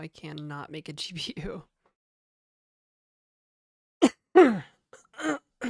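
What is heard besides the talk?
cough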